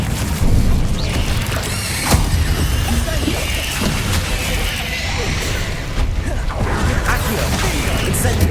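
Spell effects from Hogwarts Legacy, Incendio and Accio, cast in a fight: a steady roaring mix of booms, whooshes and crackling impacts at high volume, with short sharp hits standing out now and then.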